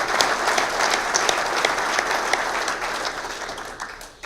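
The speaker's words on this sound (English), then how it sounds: "If you guys could please stand, a big round of applause, and wish you congratulations." Audience at a golf professionals' association annual meeting giving a big round of applause, a dense, steady wash of clapping throughout that tapers off at the end.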